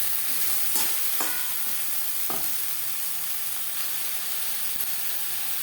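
Ridge gourd with potatoes and spices sizzles steadily in a frying pan, with a few distinct scraping stirs of a spatula against the pan over the constant hiss.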